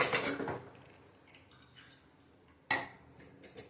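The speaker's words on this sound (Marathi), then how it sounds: "आपण झाकण काढूया कुकरचं।" Metallic clanks of a pressure cooker lid being handled and lifted off after the gas is turned off, two sharp bursts of clatter separated by a quiet pause, close up.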